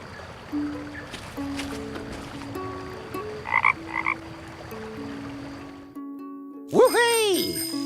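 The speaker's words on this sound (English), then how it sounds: "I wonder how he can hear that frog toy from here." A frog toy in The Night of the Rabbit game lets out a loud croaking call near the end, following quieter chiming game sounds over a soft steady background.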